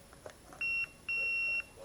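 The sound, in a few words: 3D printer power supply switched on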